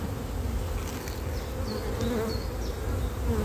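Honeybees buzz steadily around an open hive with brood and honey frames, a dense continuous drone of many insects close by with no talking.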